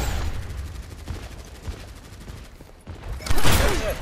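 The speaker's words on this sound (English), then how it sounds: "I hear a turret, but I don't know where it is" Bastion's turret in Overwatch firing rapid bursts of gunfire mixed with other battle noise, with a louder close burst near the end.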